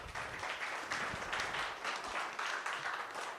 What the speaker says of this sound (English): So let's give it up again for our panel.